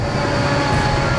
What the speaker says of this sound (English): enormous freight train is out of control, tearing through the Canadian Rockies.